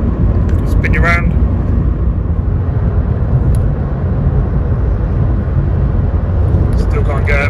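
A silver Vauxhall Corsa C with a 1.2 engine drives along, its low steady road and engine rumble constant throughout, quiet and smooth, with brief faint higher noises near the start and end.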